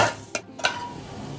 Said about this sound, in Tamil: நீங்கள் பொரிக்கும் போது சூரியகாந்தி விதை மட்டும் கொஞ்சம் வெடிக்குங்க